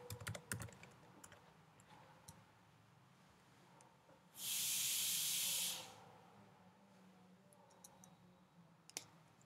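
Faint, sparse clicks of keys typed on a computer keyboard, with a loud burst of steady hiss cutting in midway against a quiet room background.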